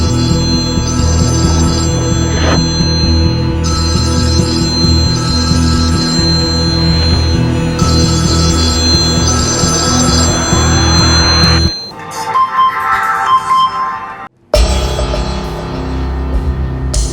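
A telephone bell rings in repeated bursts over a dense, steady background, then cuts off abruptly near the end.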